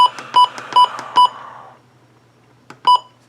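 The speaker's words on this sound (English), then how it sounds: "you can have it actually play an alert noise, like I think it's a beeping noise" A Midland WR120B NOAA weather alert radio gives four quick, sharp electronic beeps in a steady rhythm, a brief pause, then one more beep; loud and clear with little else around them.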